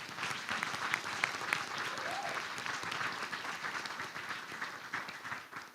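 An audience applauds steadily, many hands clapping in a dense, even wash of sound that continues throughout at moderate volume.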